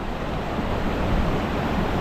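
Surf and wind roar steadily on a beach during a tropical storm, a loud, continuous low rumble of waves mixed with gusty wind noise, with no voices.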